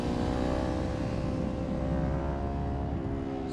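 A Kawasaki Ninja 400 sportbike is ridden hard on a racetrack at Pacific Raceways. Its engine drones loudly and steadily at high revs under throttle, with a harmonic whine that holds for a few seconds and then eases slightly.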